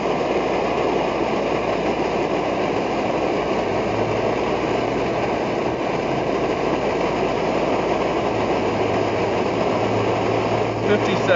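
A kerosene stove burns during start-up with a constant, dense roar that holds steady and close throughout.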